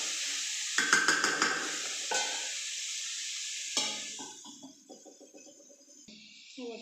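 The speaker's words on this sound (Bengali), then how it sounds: "এবার একটু নাড়াচাড়া দিয়ে আবার ঢেকে দেবো।" Vegetable bhaji sizzles steadily in a pan while a utensil stirs it, scraping and knocking against the metal in short strokes, close by, before the hiss softens and a few light taps follow.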